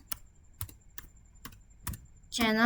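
Several crisp keystrokes at an even, unhurried pace, entering commands on a computer keyboard while configuring an EtherChannel on a Cisco switch, followed by a brief louder rushing noise at the end.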